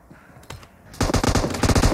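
Sustained automatic gunfire in the game PUBG: quiet scattered shots at first, then a loud rapid burst of rounds that keeps going to the end.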